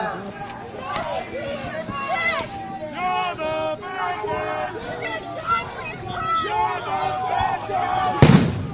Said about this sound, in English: More tear gas and flashbangs going off here.